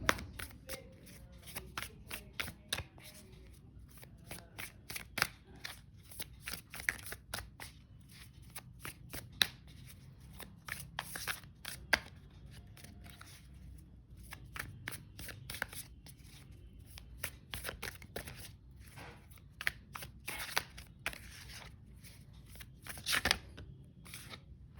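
Tarot cards being shuffled and handled at a reading, a long run of quick crisp riffling and slapping card sounds, steady and close, with no voices.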